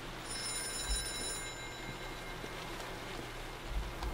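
An in-game telephone rings in the horror video game White Night, a steady electronic tone sitting over a low, constant ambient hum, with no talking.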